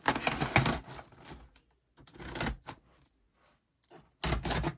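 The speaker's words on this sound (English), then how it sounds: "just cut the box open" Cardboard box being cut open through packing tape in a few short bursts of scraping and tearing, close and fairly quiet, separated by brief silent pauses.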